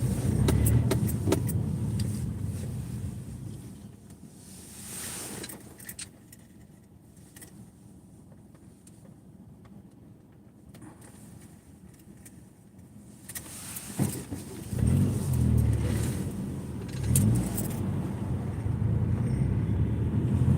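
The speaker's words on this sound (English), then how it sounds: "It's traffic for no reason." Road traffic rolls past in snowy conditions, a steady low rumble of engines and tires that swells near the start, fades to a quieter lull in the middle, then rises again as more cars pass close by.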